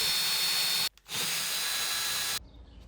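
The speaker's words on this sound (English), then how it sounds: "if we drill a hole in here, this will be able to hold in that metal magnet right here inside the board" A power drill bores a hole into a board to seat a metal magnet, whirring loud and close in a steady burst, stopping briefly, then running again before cutting off.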